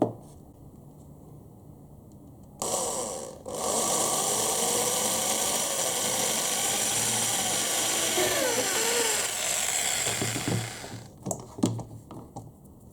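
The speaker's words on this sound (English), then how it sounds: "So make sure when you drill, your drill is actually straight down." A power drill bores a hole through a thin piece clamped down for stability, beside a String of Hearts plant. The steady whining motor runs for about eight seconds and then stops, followed by a few light knocks.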